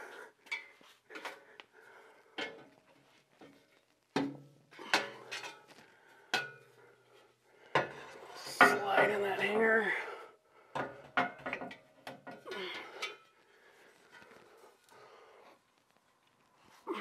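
Metal clanks and knocks while a rear tailpipe and clamp are fitted on a 4-inch MBRP cat-back exhaust on a 2021-2024 Ford F150, a string of sharp close taps and rattles in irregular bursts.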